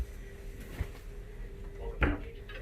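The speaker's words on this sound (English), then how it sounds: "Open the closet door for me" A closet door in a Symphony of the Seas cruise ship cabin opens with a soft click and a sharper clunk. Quiet room tone sits behind it.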